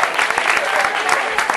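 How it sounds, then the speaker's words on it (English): Audience applause from a live crowd at a spoken word show, dense steady clapping filling the whole moment at a strong, even level without pauses. "Round of applause for the fellas"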